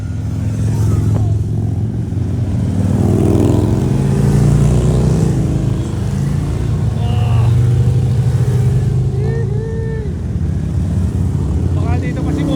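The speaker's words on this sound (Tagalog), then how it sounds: "ang daming dumadaan dito ng motor oh" Motorcycles pass along a road in Langley amid a steady loud drone of engines and revving, with people talking over the traffic throughout.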